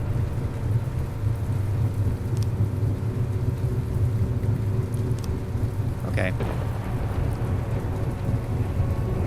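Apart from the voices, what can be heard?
rain and thunder inside submarine in video game From the Depths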